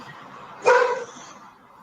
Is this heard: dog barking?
yes